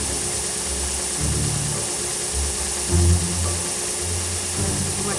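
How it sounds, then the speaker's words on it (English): A restored, upgraded Delta disc and belt sander grinds painted white line off an egg, a steady loud motor drone with the pitch shifting as the egg is pressed against the abrasive, with brief surges of contact noise. "sand this painted white line off of this egg, first with the edge sander, and then with the new upgraded disc and belt sander"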